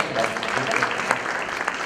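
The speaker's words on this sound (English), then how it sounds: "Saquib Sahab, please, round of applause." A round of applause from an audience at an HR conference: dense, steady clapping of moderate loudness that fills the short stretch without a break.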